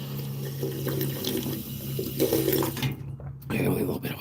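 Tap water running steadily into a sink, close and continuous with a brief interruption near the end, under a person talking.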